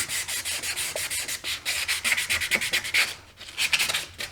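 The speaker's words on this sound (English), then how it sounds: "So I would take a fine grit sandpaper and just kind of clean this up a little bit" Fine grit sandpaper rubs back and forth over a rusty part of a used brush hog, close rhythmic scratchy strokes with brief pauses between them.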